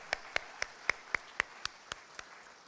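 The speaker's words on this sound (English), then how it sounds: "Can we just get a round of applause for that?" Nine sharp, evenly spaced claps ring out alone in a quiet banquet hall, fairly faint and crisp, like a single person clapping slowly at a rhythmic pace.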